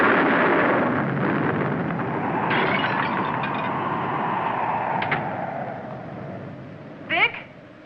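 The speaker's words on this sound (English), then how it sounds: "The explosion caught him." A film explosion in Maracaibo rolls out as a heavy, loud roar that slowly fades into a lingering rumble over several seconds, broken near the end by a brief sharp cry-like sound.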